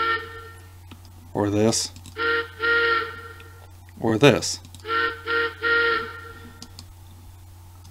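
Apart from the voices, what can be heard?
MTH model train engine steam whistle sound effects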